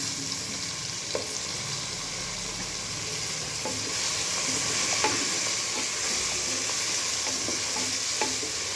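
Goat legs fry in hot oil in a pan for Telangana-style paya curry, giving a steady, close hiss of sizzling broken by occasional light scrapes and knocks from stirring, with no talk.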